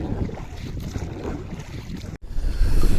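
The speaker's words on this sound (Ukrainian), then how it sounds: "Вітрюган, як ви чуєте, дуже сильний піднявся" Strong wind buffets the microphone in a constant rough roar outdoors on a spin-fishing trip, briefly cutting out before surging louder again.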